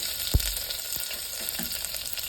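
Chopped garlic frying in hot oil with popped mustard seeds, a steady close sizzle with one sharp pop near the start and faint stirring, with no talking.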